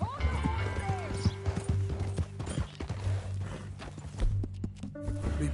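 Horse hooves clip-clop steadily in Red Dead Redemption, mixed with neighs and in-game music, while characters talk over the riding.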